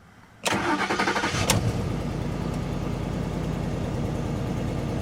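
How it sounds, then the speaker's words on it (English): A 2010 Ford Explorer Eddie Bauer V8 engine cranks briefly and catches, firing up with a loud burst before settling into a steady, even idle that continues to the end. "So, for the last time, start her up."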